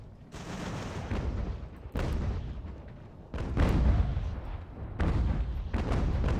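Artillery guns fire in the Ultimate General: American Revolution video game during the Battle of New York and Fort Clinton, with four or five heavy booming volleys that each ring out and decay, then overlap into a sustained rumble of cannon fire.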